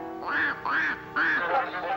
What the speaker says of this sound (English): began a loud quacking